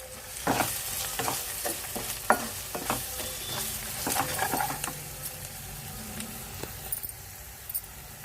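Chicken kurma masala with onion and curry leaves fries in a pan while being stirred, a steady close sizzle punctuated by repeated spatula scrapes and taps.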